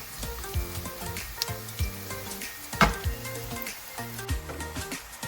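Bitter gourd (karela) fries in a pan with a steady sizzle, punctuated by scraping and clinking stirs from a spoon against the pan, close and moderately quiet, with no voices.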